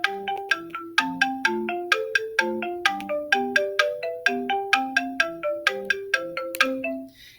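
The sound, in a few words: arpeggio pattern played in Chrome Music Lab Song Maker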